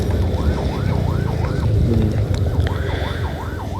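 An ambulance siren sounds in its fast-tempo wail 2 pattern, a rapid, steady rise-and-fall sweep that repeats several times a second. It is loud and close, runs the whole time and has no talk over it.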